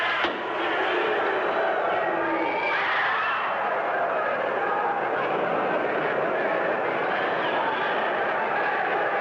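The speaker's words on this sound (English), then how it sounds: "That crowd roar." A boxing fight crowd roars as a steady, dense wash of cheering and chatter, loud and sustained without pause, with a harsh vintage broadcast tone.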